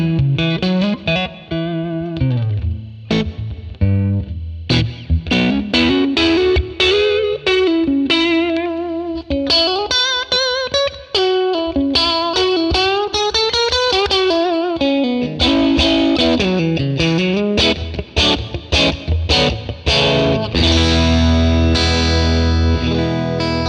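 An electric guitar plays through a ToneX model of a 1957 Fender Tweed Bassman, set to a warm crunchy overdrive with reverb. It runs loud and continuous through single notes, bends and chords, with no talking.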